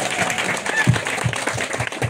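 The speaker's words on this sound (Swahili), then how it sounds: "Pigieni mama makofi tena." Crowd applause at a religious praise gathering: dense, steady clapping from many hands for about two seconds, mixed with background voices.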